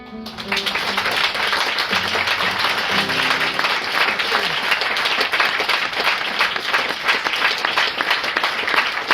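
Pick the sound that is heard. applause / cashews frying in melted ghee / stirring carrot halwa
applause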